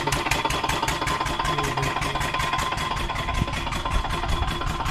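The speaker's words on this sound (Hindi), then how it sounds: "ये देखिए यहाँ का इंजन।" A farm engine in Saudi Arabia runs steadily at close range, a continuous rapid mechanical chugging with an even, pulsing rhythm and no talk over it.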